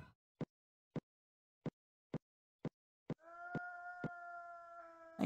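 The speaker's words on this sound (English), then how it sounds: "I hear a wolf in the background." A wolf howls in the background of the hidden-object puzzle game Haunted Hotel II, a faint, sustained tonal wail rising after a run of evenly spaced soft ticks.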